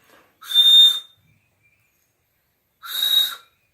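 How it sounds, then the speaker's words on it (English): Two short, shrill whistle blasts from a homemade cane whistle, separated by a pause of nearly two seconds, breathy and airy around a thin piercing tone. "Doesn't seem to have much of a whistle."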